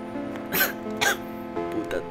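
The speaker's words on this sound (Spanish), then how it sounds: "Me acaba de empezar la tos esa tremenda que tengo." Three or four short, harsh coughs burst out in quick succession, close and fairly loud, over a faint steady background tone.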